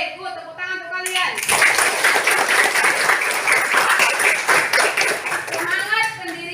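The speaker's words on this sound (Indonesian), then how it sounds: "Tepuk tangan untuk kalian." Students clapping in a classroom after a lesson on Pancasila, a burst of applause starting after a short spoken lead-in, sustained and fairly close, with brief voices audible at the start and end.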